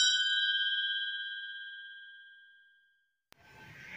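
A bright notification bell for a subscribe button rings once and decays smoothly over about three seconds, clean and alone, followed by a faint click and low hiss.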